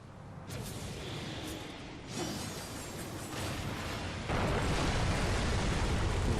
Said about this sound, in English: Blowing up pillars and making the ceiling kind of cave in